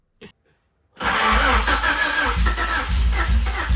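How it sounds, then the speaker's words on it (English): A Honda CRX Si with a newly installed DOHC ZC engine cranks and catches, then runs loud and steady up close, with a high squeak riding over the rumble. "I'm getting some squeaking, but I'm getting some start"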